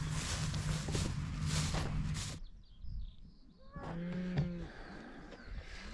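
Cattle mooing nearby on a farm lease block, a couple of long low calls separated by a quiet gap, with faint rustling between them.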